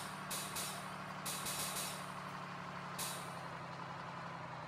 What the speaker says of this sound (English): I've had this truck up to like 75 miles an hour, by the way, which is just absolutely crazy.